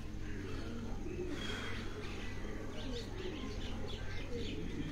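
Pigeons coo softly from a rooftop pigeon loft in Chak Shahzad, with repeated gentle throaty calls and a few faint chirps over a constant low hum.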